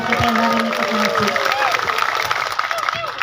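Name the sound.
audience applause for the young people attending the religious gathering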